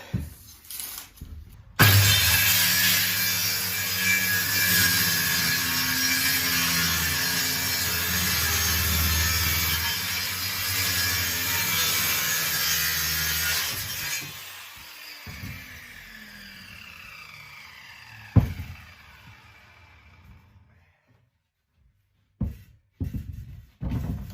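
Power saw slicing through a 12 mm plywood sheet in a home workshop, a steady loud cut lasting about twelve seconds that winds down, followed by a sharp knock and a few faint clunks.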